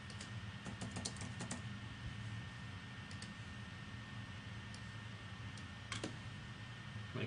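Text being typed on a computer keyboard, quiet steady key clicks with a few brief bursts of faster keystrokes over a low background hum, no voices.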